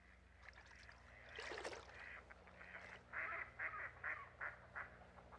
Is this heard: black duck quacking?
yes